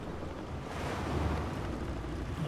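Waves slosh against a sailing boat at sea in Bannerlord, a continuous windy rush of surf that grows a little louder after the first second, with no voices.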